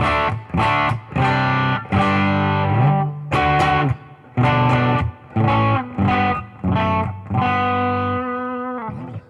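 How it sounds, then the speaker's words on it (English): Electric guitar through a Line 6 Helix with impulse responses plays a slow phrase of distorted, sustained notes and chords, each ringing out with a reverberant wash before the next. "Throw the reverb back on."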